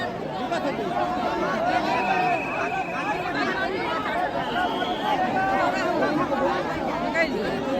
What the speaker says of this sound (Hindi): बहुत भीड़ छै।